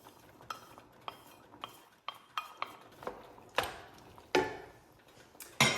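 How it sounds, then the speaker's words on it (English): Beef with garlic and onions stirred in a pan, a spoon clinking and scraping in spaced knocks that grow into louder scrapes toward the end, close by with no talk. "I'm going to continue to stir this up"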